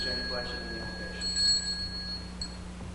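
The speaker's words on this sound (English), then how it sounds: "it's the same thing every time you ring the bell" A small altar bell rung by a server during a Latin Tridentine Low Mass, giving a bright, thin metallic ring that sustains over a faint hum, with a short second ring near the end.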